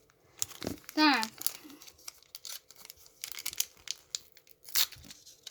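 A sticker packet is torn open at close range in several quick crinkling rips, with a short spoken word and some rustling between the tears.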